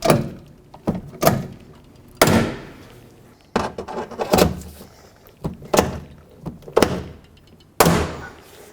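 Repeated sharp clunks and snaps as rivets are squished and clamped onto the steel door of a 1997-2003 Ford F-150 while fitting a window regulator, close and loud, arriving in irregular bursts with ringing decays.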